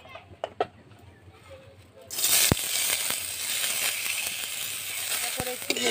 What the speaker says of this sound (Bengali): চালটা প্রথমে আমি ভেজে নেব।